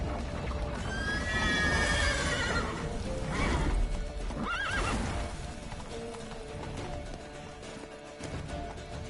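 Horse hooves clatter in a fast gallop in The Witcher 3 video game, with a whinny rising above the pounding rhythm; loud, close and continuous.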